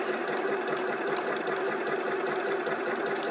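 A sewing machine stitches fabric in a steady, continuous mechanical whir, close and even, covering a raw edge during broderie perse appliqué work, with no talking.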